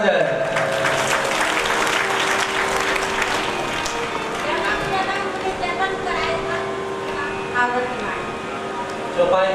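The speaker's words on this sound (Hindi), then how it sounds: "इनके लिए जोरदार ताली हो जाए।" Audience applause at a Bhagavat katha religious gathering in Darbhanga, a broad, steady wash of clapping filling the whole stretch, mixed with voices and tonal music or chanting underneath.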